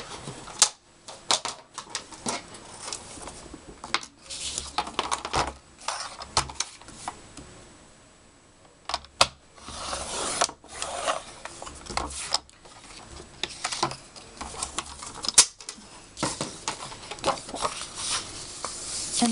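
A scoring tool is run lengthwise along a sheet of 8.5 by 5.5 inch cardstock at a half-inch mark, giving faint, close scratchy scraping strokes broken by clicks and taps over a quiet background, with no voices.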